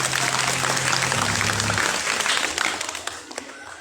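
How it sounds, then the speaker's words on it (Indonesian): A school election crowd applauds loudly with dense clapping that thins out and fades toward the end. "beri tepuk tangan dulu kepada para calon ketua MPK"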